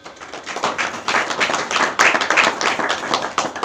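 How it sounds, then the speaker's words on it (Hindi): An audience at a spiritual talk claps for themselves, a dense, lively round of applause from many hands that swells and continues steadily, close and fairly loud. "ताली बजाओ सब अपने लिए एक बार"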